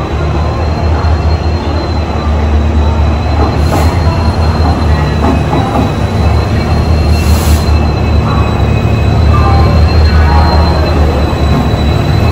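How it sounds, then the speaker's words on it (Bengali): A passenger train pulls into a railway station with a loud, continuous rumble of wheels and carriages, and faint metallic wheel squeals rise now and then. "ট্রেন এখন সবে ঢুকছে।"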